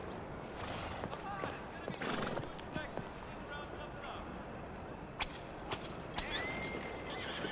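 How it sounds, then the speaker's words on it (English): A horse hitched in a Western town in the Red Dead video game whinnies and snorts, with faint hoof clops, all moderately quiet under someone talking. "someone's hitched their horse here"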